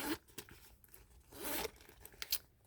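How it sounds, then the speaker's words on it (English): Zipper on a Dooney & Bourke handbag being pulled shut, several short quick rasping zips in bursts, close and fairly soft, with no talk. "And it will zip up just fine."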